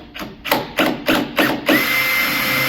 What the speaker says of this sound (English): are you happy for me to drill a hole?